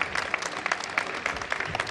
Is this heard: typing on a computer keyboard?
no